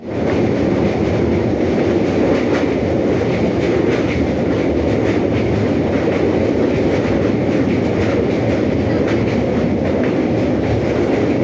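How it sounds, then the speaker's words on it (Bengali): A Maa Tara Express passenger train runs along the tracks in West Bengal, heard from inside as a steady, loud rumble with a faint rhythmic clatter of wheels and no talking. "উঠে পড়েছি মা তারা এক্সপ্রেসে, আমাদের ট্রেন ছেড়েও দিল।"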